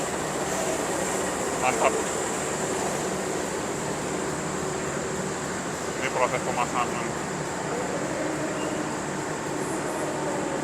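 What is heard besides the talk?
CC 206 diesel locomotive running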